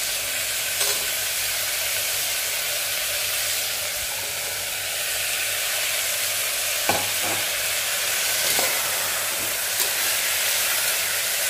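Potatoes, carrots and green chillies stir-fry in a pan, giving a steady close sizzle with occasional scraping clinks of a spatula stirring through them, and no voices.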